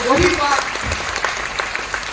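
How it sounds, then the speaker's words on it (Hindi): Audience at a business meeting bursting into applause, a short burst of close clapping that starts right after a voice and keeps going to the end. "एक बार सबके सम्मान में ताली।"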